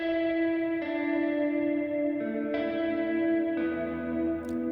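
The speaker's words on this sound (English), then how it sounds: "So I literally just took that melody and then played it out on the guitar" A guitar plays a slow counter melody for a dark, emotional hip-hop beat, each sustained note drenched in echo and reverb effects and shifting to a new pitch every second or so.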